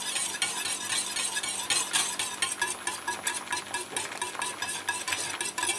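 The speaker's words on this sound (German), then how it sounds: "versuche jetzt hier mit dem Schneebesen so eine Art Strudel zu erzeugen" A wire whisk swirls water in a pot to form a vortex for poaching eggs, a continuous rapid clinking and sloshing rhythm with metallic ticks, close and steady, no voices.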